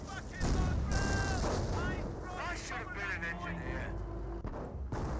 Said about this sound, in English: Panthers just firing away.